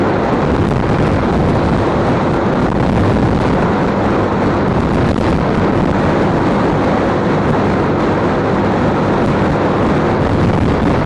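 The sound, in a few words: riding a Honda CBF125 motorcycle, wind noise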